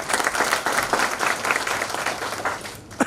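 An audience at an election results announcement breaks into loud applause, steady rapid clapping from many hands that goes on for about three seconds before fading slightly at the end.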